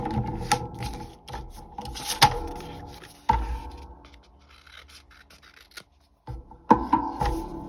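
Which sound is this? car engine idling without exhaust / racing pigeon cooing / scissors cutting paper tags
scissors cutting paper tags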